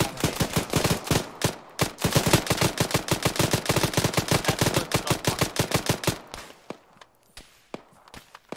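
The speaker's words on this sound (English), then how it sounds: "Sounds like there's still shots coming in from." Rapid gunfire from a military simulation video game, dense bursts of automatic shots rattling almost continuously for about six seconds and then thinning to a few scattered reports, loud and close with no speech.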